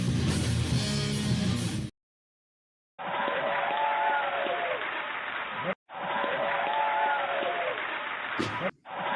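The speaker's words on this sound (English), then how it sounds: "All this applause." A burst of crowd applause and cheering plays in two long, even stretches separated by abrupt silences, dense and steady, with a short break in between.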